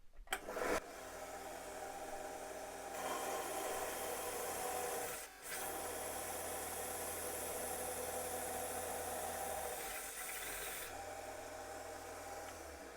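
A small combined belt and disc sander grinds steadily against wood to form a rounded edge, a loud continuous abrasive whir with brief dips in load, heard alone without talk.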